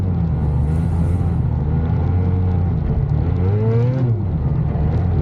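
An old-school triple two-stroke motorcycle engine revs hard and close, a loud, steady rumbling drone that swells in pitch near the end with a throttle blip, with no talk.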